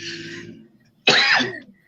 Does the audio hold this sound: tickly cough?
yes